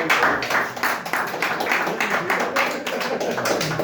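An audience claps at a business talk on blockchain and finance: a short burst of rapid hand claps from a crowd, fairly loud and continuous for a few seconds.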